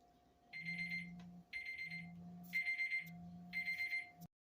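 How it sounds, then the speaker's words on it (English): An alarm goes off in a home kitchen while oatbread is being made, sounding four short bursts of rapid electronic beeping with steady gaps between them, faint, then stopping abruptly. "that was my alarm going off for something else"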